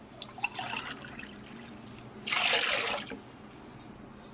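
Water pours from a large glass into washed chana dal in a short burst of splashing trickle, preceded by fainter dribbles and quiet kitchen handling sounds.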